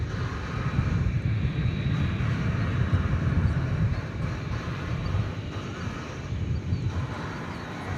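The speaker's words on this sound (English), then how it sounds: "We have another international destination here in the form of this Dreamliner Dash 8 going to" Boeing 787 Dreamliner airliner at DFW Airport, bound for Rome: a steady, broad jet-engine roar, close and loud throughout, with no talk.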